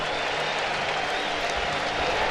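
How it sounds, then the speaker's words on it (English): A sellout crowd at Great American Ballpark, a baseball stadium, applauds in a steady, dense ovation, a loud continuous wash of clapping and cheering that holds evenly throughout. "He will get a warm ovation from this sellout crowd at Great American Ballpark."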